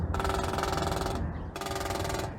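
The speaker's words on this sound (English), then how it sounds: "All that noise is a flicker attempt at attracting a mate." Two rapid, loud bursts of northern flicker woodpecker drumming, each a fast machine-gun-like rattle lasting about a second, close and separated by a brief pause.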